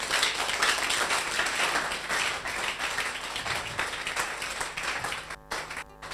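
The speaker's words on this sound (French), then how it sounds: "Acclamons pour les mamans et les jeunes filles" A church congregation claps for the mothers and young girls, a busy, continuous patter of many hands that holds fairly steady before thinning out near the end.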